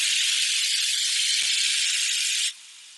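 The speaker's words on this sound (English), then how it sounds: "First, take all the steam out." Steam is let out of a pressure cooker holding soya chunk and potato curry in a home kitchen. A loud, steady hiss runs for a couple of seconds, then suddenly drops to a faint, thin hiss.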